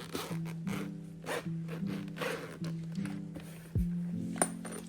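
A zipper is drawn slowly around the fabric-textured case of Sennheiser Momentum 4 wireless headphones, a close, quiet, continuous series of ratcheting zips in several strokes with a small click partway through.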